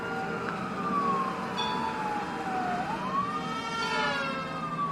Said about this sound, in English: by this time you all start hearing that police siren in the distance